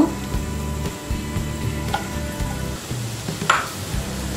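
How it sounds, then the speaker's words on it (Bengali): Chopped onion fries in about two tablespoons of hot oil in a pan, giving a steady close sizzle with a few soft clinks of a utensil and no talk. "তেল দেওয়ার পর তেলের মধ্যে পেঁয়াজ কুচি দিয়ে দিব"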